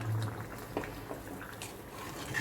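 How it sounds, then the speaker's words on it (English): Half a cup of water goes into a hot pan of chicken ghee roast, giving a faint bubbling sizzle with a few soft pops and clinks that stays quiet throughout, with no talk. "Just adding some water, half a cup of water should be good"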